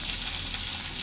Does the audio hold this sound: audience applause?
no